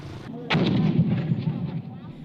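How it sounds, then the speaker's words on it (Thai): A heavy gunshot on a battlefield booms once, then a rolling, rumbling echo slowly fades away. "กลับเริ่มต้นด้วยเสียงปืนในสนามรบ"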